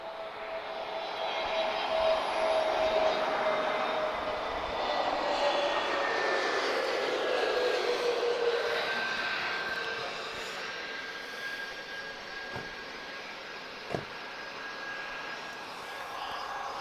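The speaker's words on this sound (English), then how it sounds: "you'll notice a difference in the sound now compared to the other 737s" Boeing 737 MAX 8 jet engines at Lisbon Airport, a broad roaring whine with slowly descending tones as the airliner passes at a distance, swelling and then fading gradually, with no other sounds.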